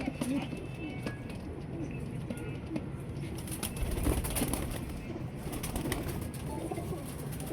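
A Teddy pigeon coos in a loft among other pigeons, with soft low cooing and wing flutters over dense background chatter and bird noise, while someone talks throughout.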